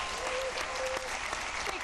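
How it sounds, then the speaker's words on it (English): A studio audience gives dense, continuous applause for actress Denise Boutte, loud and even across its short length with a faint voice mixed in. "Big clap."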